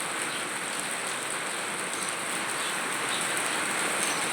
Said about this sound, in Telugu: ఇంత పెద్ద వర్షం అండి